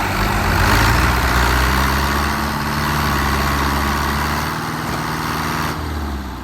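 A farm tractor's engine runs steadily in low range and fourth gear, straining to pull another stuck tractor free on a village road; a loud, continuous low rumble with no talk over it.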